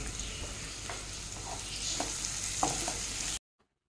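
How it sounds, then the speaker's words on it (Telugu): Spiced food sizzles in a pan while turmeric is stirred in, giving a steady close frying hiss with a few soft scraping stir strokes before it cuts off abruptly. "కొంచెం వేగిన తర్వాత ఒక పావు స్పూన్ పసుపు వేసి కలపండి"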